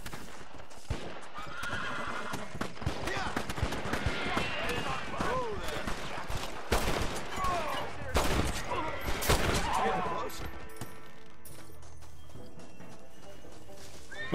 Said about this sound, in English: Is shooting coming from this way? Sounds like more than one gun.